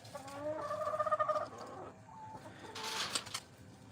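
Several chickens cluck and squawk close by outside a house, a busy burst of fowl calls in the opening seconds, then quieter scattered clucks with a rustling, scratchy noise near the end.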